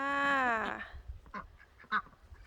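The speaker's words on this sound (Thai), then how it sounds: "ปล่อยเป็ดออกมาหากิน" A duck gives a loud, drawn-out quack, followed by a few softer, scattered quacks nearby.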